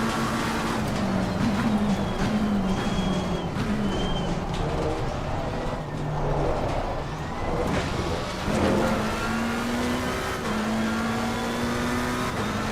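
Race cars in Assetto Corsa Competizione drone steadily with engine pitch rising and falling through shifts, and other cars can be heard nearby throughout.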